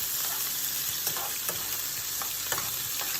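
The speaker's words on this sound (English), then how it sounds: "We're gonna add in all our seasoning now. We're gonna give it a nice saute." Seasoning sautéing in about a third of a cup of hot oil for ackee and saltfish: a steady, close sizzle and crackle with a few soft stirring scrapes and clicks, and no talking.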